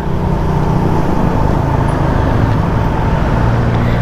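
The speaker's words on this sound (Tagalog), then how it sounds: "Traffic lagi dito" Road traffic on Aguinaldo heard from the roadside, a loud continuous wash of engine rumble and tire noise from passing cars and motorcycles with no pauses.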